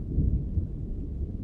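A deep, heavy rumble of thunder rolls loud and close, filling a short moment on its own in a horror podcast.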